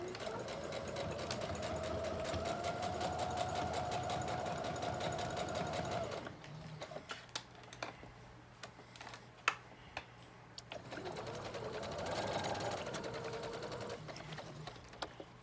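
A sewing machine stitches a jacket seam along a curve, a rapid mechanical ticking hum in two runs split by a pause with scattered clicks, close and moderately loud, with no talking.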